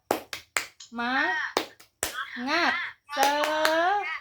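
Classroom clapping chant led by a teacher in an Indonesian primary school lesson: a few sharp hand claps alternate with children's voices chanting together in unison, loud and close.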